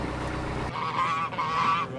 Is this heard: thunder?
no